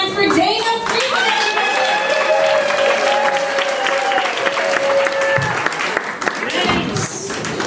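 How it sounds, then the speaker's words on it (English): A stand-up comedy club audience in New York claps and cheers loudly for a comedian, with dense sustained applause throughout and a voice talking over it. "Please start clapping your hands for Dana Friedman"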